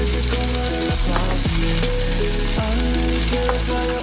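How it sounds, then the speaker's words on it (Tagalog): Pechay (bok choy) stir-frying in a honey lemon sauce, a steady loud sizzle with a few sharp clattering stirs of the utensil against the pan, no voices. "Add the pechay and stir fry it until fully cooked."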